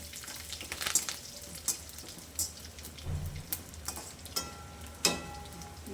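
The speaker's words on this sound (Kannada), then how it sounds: "ನೋಡಿ ಸಾಸಿವೆ ಸೌಂಡ್ ಬರ್ತಾ ಇದೆ" Mustard seeds spluttering and popping in hot oil for tempering, scattered sharp crackles and pops over a soft sizzle, close and fairly quiet.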